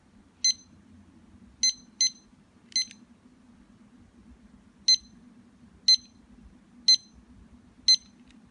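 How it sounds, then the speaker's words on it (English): An Accuon 4-channel digital timer clock sounds its alarm tone as short, high electronic beeps, eight in all, arriving singly and in pairs at irregular spacing over a low hum, with no talking. "every timer has a different tone when it sets off"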